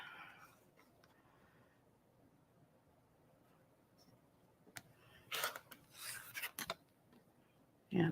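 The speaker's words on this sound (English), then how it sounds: "And then we can trim off the edge." Sharp scraping cuts come as the edge of a fabric quilt block is trimmed, after a quiet stretch of soft rustling, with a few quick rasping strokes near the end.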